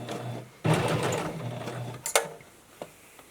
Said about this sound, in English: I think the most difficult thing about sewing this mask is just getting around this curve